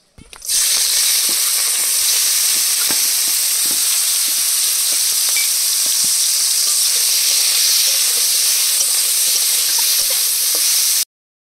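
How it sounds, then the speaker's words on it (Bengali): Shrimp fry in hot oil, the first step of a village-style pumpkin greens dish, making a loud, sustained sizzle with scattered crackles and pops that runs about eleven seconds and then cuts off. "এবার কুমড়ো শাক রান্নার জন্য প্রথমে চিংড়ি মাছ ভেজে নেব।"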